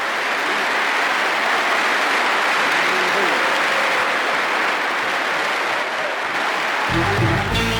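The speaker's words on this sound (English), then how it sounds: "there was a little splice in the applause there, too." Steady, dense applause from a large concert audience on a live record of the Watkins Glen show, running loud and unbroken before an abrupt splice near the end where the sound cuts to a different texture.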